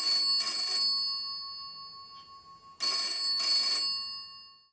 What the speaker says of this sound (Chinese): 睡梦中的周景瑜被电话吵醒